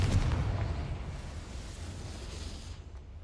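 A Confringo fire spell bursts in Hogwarts Legacy, a loud blast with a deep rumbling body right at the start that fades into a sustained crackling roar across the short moment.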